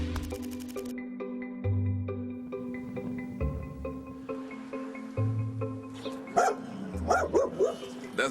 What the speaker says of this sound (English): You keep barking, that's good.